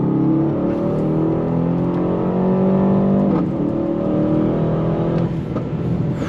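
An Aston Martin DBX 707 SUV's turbocharged engine drones and climbs steadily in pitch as it accelerates, with a continuous exhaust rumble and no talking.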